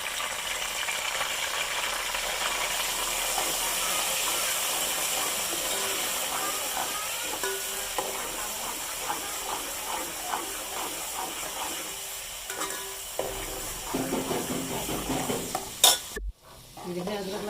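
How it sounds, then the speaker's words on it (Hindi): Ginger garlic paste frying with browned onions in a pan for chicken keema, a steady close sizzle with stirring scrapes throughout, and a brief sharp clatter near the end. "ये देखिए अदरक लहसुन हमारा भून चुका है"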